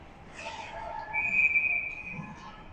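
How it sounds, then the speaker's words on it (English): A referee's whistle blows once, a sustained shrill tone at an under-18 ice hockey game, heard at moderate distance over arena crowd noise. "And there's a whistle."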